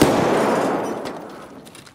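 Gunshot in a first-person shooter game, a single sharp report that decays over about two seconds into a fading echo, with no voices.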